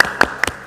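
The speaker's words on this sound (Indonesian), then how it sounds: "Tepuk semangat." Children do the 'tepuk semangat' clapping chant, giving a few quick, sharp claps in a short burst, close and distinct.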